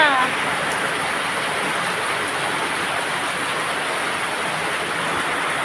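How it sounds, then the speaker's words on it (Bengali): Heavy midday rain pours down in a steady, dense hiss that stays loud and even throughout, with no pauses. "এখন তো প্রচুর পরিমাণে বৃষ্টি হচ্ছে।"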